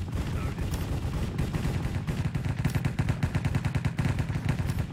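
Rapid automatic gunfire from a Minecraft cops-and-robbers shooter match, with dense bursts of shots rattling continuously and loudly throughout, alone without talk.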